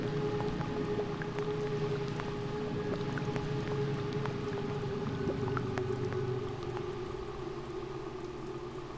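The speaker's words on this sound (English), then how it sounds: "It's still raining." Steady rain falls in the horror game The Music Machine, a dense, continuous patter and hiss that holds at even loudness throughout without any voices.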